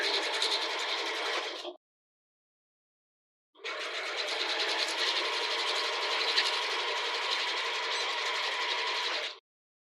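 A home sewing machine runs a zigzag stitch along a fabric edge while a sports bra is being made, in two steady buzzing bursts separated by a short pause, close and alone with no talk.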